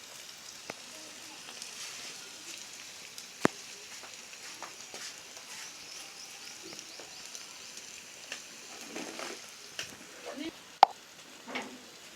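Moringa drumsticks (sajna) fry in a pan with a faint, steady sizzle. Occasional soft pops and sharp kitchen knocks punctuate the sizzle, and the sound stays fairly quiet throughout.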